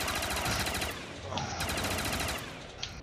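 Rapid automatic gunfire, likely a Pack-a-Punched RPK, in Black Ops 3 custom zombies: a loud, continuous rattling stream of shots that runs the whole time with no talking.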